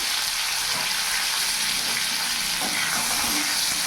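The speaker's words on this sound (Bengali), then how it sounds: "এবার ভালো করে নাড়াচাড়া দিয়ে পেঁপেটা একটু ভাজা ভাজা করে নেব" Steady, close sizzling of raw papaya frying in hot oil, a continuous crackling hiss with no talking.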